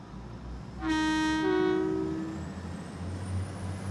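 A British train departing in the Train Sim Classic video game: a loud two-tone horn blast lasting about a second and a half, followed by a steady low rumble of the moving train.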